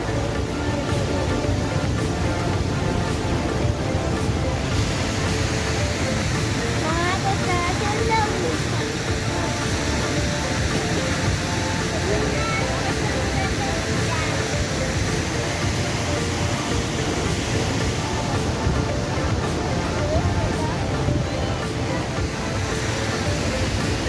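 Water rushes loudly and continuously beneath the stone vault of an old mill along a route of mills, a dense, steady roar with people talking faintly over it.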